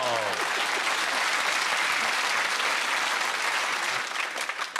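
Loud, dense applause from a studio audience at a satirical comedy panel show, holding steady for several seconds before thinning out near the end, with a brief voice at the start.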